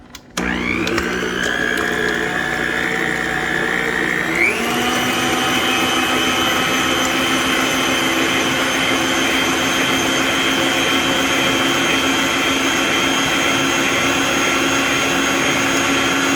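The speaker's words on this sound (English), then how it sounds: "Let's go to the mixer." Electric mixer beating cheesecake brownie batter, a loud steady motor whine that rises in pitch after a few seconds and then holds constant, with no talking.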